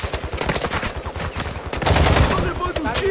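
Rapid bursts of Call of Duty gunfire crackle in quick succession, loud and close, with a voice briefly talking over the shooting.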